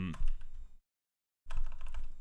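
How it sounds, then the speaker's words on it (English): Rapid keyboard typing clatters in dense bursts, broken by a short silent gap before resuming, close and fairly loud. "my typing on this keyboard has never been good"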